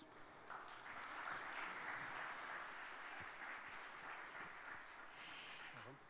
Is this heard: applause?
yes